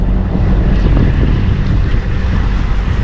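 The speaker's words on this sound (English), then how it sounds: "We're motor sailing." A sailboat motor sailing at dawn off Bundaberg, with loud constant wind buffeting and rushing water with a low engine rumble beneath.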